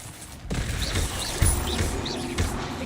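An Incendio fire spell cast in Hogwarts Legacy, a sudden whooshing burst followed by a sustained rumbling roar of flame with a few sharp crackles.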